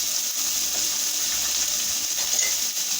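Peppers, onion and garlic frying in hot oil give a steady, close hiss and sizzle that holds unbroken throughout, with no voices over it.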